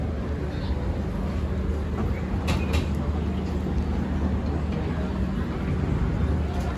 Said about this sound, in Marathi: आपली ट्रेन चालू झालेली आहे